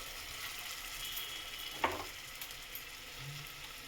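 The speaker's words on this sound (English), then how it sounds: "So I've started with the high flame. Okay, so just fry both the sides." Breadcrumb-coated dimer devil fries in oil over a high flame with a steady, close sizzle and crackle, broken by one sharp clink partway through.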